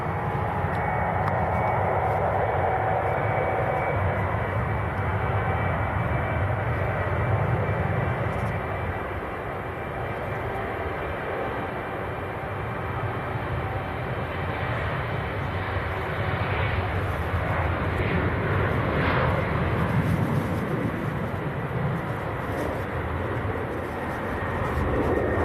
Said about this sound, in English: here comes the German Airways on the roll.